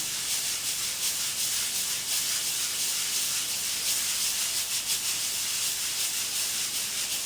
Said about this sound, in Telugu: ఇట్లా పోసుకోవాలి ఇట్లా దీన్ని జల్లెడ పట్టడం అంటారు